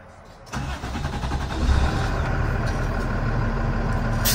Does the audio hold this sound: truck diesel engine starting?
yes